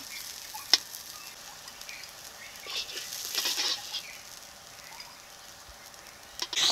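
Prawns frying in a wok, a soft continuous sizzle with a few crackles and spatula scrapes near the end, fairly quiet and close, with no speech.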